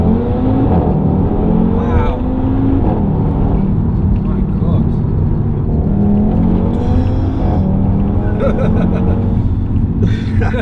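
Audi TT RS driving and accelerating, a loud continuous engine note rising through several gears from inside the cabin, with people talking over it.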